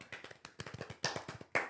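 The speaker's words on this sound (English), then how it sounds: "3 people clapping is so lame." Three people clapping, close and fairly quiet, a quick uneven run of sharp hand claps with a few louder ones near the end.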